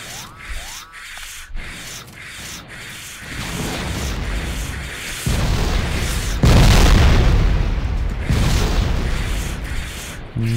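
Grenades explode in the Factorio video game, a run of loud booming bursts and rumbling blasts layered over dense, gritty noise, building in intensity over about ten seconds.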